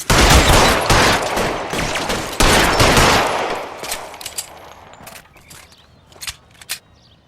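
Dense bursts of gunfire from an L.A. Noire shootout, loud rapid volleys in the first half thinning into scattered individual shots toward the end.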